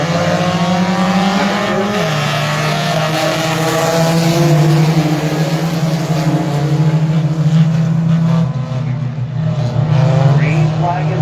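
Street stock race cars roar around the oval in a heat qualifier at Airborne Speedway, a loud, sustained engine drone with shifting pitch as cars pass, under continuous crowd and announcer-style background noise.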